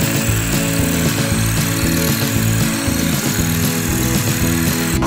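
A cordless drill grinds against a concrete foundation while digging a post hole in a garden, giving a loud, continuous buzzing whine with rough, rattling pulses throughout.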